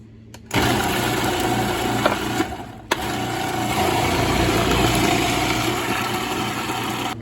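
An electric shredding machine starts abruptly and whirs steadily as it shreds half a head of cabbage, briefly stops and restarts, then keeps humming close and loud until the end.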